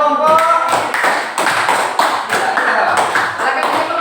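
Group clapping for the presenting team at a teacher performance assessment session, a steady patter of hand claps running throughout with a voice briefly heard at the start.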